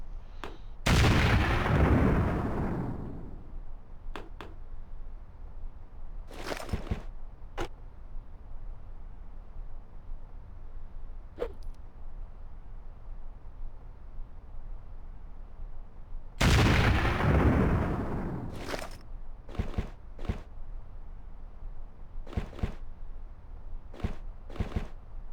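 Heavy rifle shots from an SVT rifle in a video game set in Greece in 1946, two loud booming blasts with long reverberant tails about fifteen seconds apart, separated by sparse sharper cracks and clicks.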